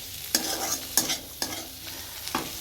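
Potato, bitter gourd and eggplant with onion, green chili and nigella seeds sizzle in a pan while a spatula scrapes and tosses them in a few quick, regular strokes about half a second apart.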